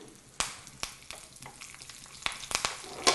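Cumin and curry leaves are tempered in hot oil for vankaya pappu kootu. They sputter close by in sharp, irregular pops and crackles over a soft frying hiss, with no voices.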